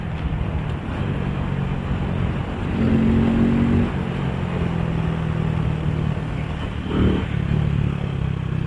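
A motorcycle ridden solo on a Sunday morning gives a steady, loud engine drone with road rumble, rising slightly in pitch now and then as the rider moves along.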